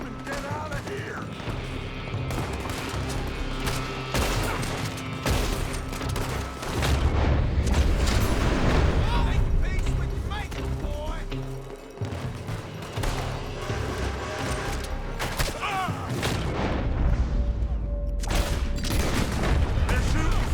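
Gunfire in the Red Dead Redemption 2 video game, with an enemy firing from a building: dense, repeated shots and booms over a busy game soundscape and music, with voices calling out in between.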